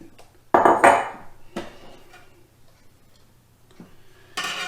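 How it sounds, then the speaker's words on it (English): Grated cheese being tipped from a small bowl into a bigger one, giving a few loud clattering knocks of bowls, then quieter scraping and a final clink, with no talking. "putting that in a bigger bowl because this little one just ain't going to get it."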